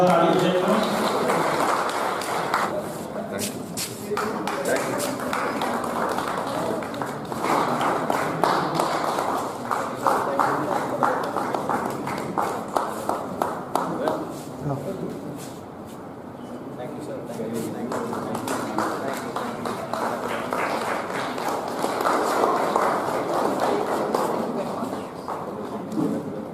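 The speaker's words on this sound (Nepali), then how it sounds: "एकपल्ट जोरदार ताली बजाइदिनु।" An audience at a Bharatiya Gorkha Parisangh foundation day event in Dehradun claps loudly in a long, steady swell of applause, dipping briefly midway before building again, with voices mixed in.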